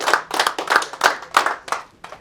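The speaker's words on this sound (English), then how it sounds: "Round of applause for this guy right here." A small group claps for a driver at a racing school, giving a short burst of rhythmic, close-up hand claps in about seven distinct pulses that thin out at the end.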